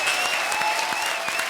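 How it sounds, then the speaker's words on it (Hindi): Dense, continuous hand clapping from a comedy show audience fills the whole moment at an even level, with a faint sustained musical tone in the background and no speech. "ताली बजा रहा हूं।"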